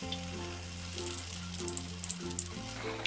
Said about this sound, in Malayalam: എണ്ണ ചൂടാകുമ്പോഴേക്ക് ഈ ഫില്ല് ചെയ്ത് വെച്ചിരിക്കുന്ന ഓരോ ബ്രെഡും ഇട്ട് ഫ്രൈ ചെയ്തെടുക്കാം